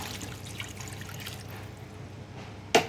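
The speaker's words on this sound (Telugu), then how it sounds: "ఇప్పుడు మసాలా మిక్స్ చేసిన వాటర్ యాడ్ చేసుకుందాం" Masala-mixed water poured into a chicken curry in the pan, a steady soft wash of liquid for a few seconds, ending with a sharp clink of a utensil.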